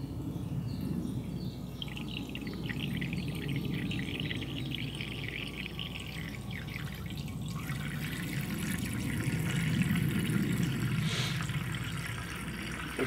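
Water trickles and splashes into a pot for couscous at an outdoor stealth camp, a steady close pour with faint birds in the background.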